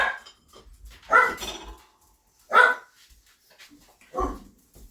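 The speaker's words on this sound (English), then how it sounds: "it is never in this household free of dog noise" A dog barks indoors in a house, several loud, close barks spaced apart with quiet gaps between them.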